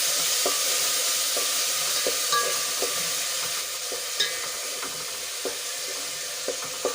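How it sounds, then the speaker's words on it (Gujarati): Grated onions fry in oil, a steady sizzle close by with regular scraping taps of a spoon stirring in the pan, and no voices. "હવે આપણે ડુંગળીને થોડી વાર સુધી સંતળાવા દઈશું"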